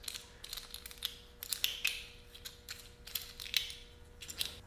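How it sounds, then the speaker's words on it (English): A handle knob on a Craftsman corded lawnmower is being unscrewed, giving off quiet, irregular plastic clicks, ratcheting ticks and small creaks close to the mic, with no talking. "It should come already screwed, so you need to unscrew it first."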